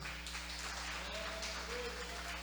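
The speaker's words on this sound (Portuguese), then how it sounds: "Você pode dar uma salva de palmas para Jesus?" A church congregation applauds during a worship service, a dense layer of clapping mixed with a low steady hum and some voices, moderately loud throughout.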